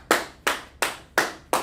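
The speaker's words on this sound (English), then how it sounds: "Clap it up for Angela." Single pair of hands claps five times in an even, unhurried rhythm, each clap sharp, close and loud with a short decay, applauding Angela.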